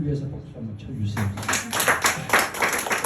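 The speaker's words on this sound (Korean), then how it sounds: "정말로 이분들을 위해서 박수 한번 쳐주세요" An audience at a Buddhist lecture breaks into applause after about a second of someone talking, with a dense, uneven patter of clapping that continues to the end.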